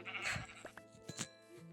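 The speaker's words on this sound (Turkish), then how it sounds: "Ve koyun burada." Sheep in a video game bleat several times in short, wavering calls, close and fairly quiet over soft game background sounds.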